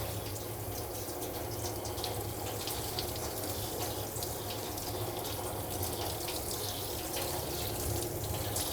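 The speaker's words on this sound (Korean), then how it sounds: "강아지 몸 쪽에 샤워기를 대고 천천히 강아지가 놀라지 않게" Shower water runs steadily over a dog's body during a bath at a self-service dog wash, a continuous close hiss of spray and splashing with no voices.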